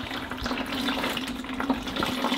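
Engine oil draining from a Range Rover Sport into a container, a steady close liquid pour with gurgling splashes running continuously and alone.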